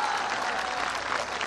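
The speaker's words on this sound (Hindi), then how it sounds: "एक बार जोरदार ताली आप लोग बजाइए।" Audience at an All India Mushaira poetry gathering in Mogalpura, Deoria, breaks into brief, dense, steady applause, a continuous wash of clapping from many hands.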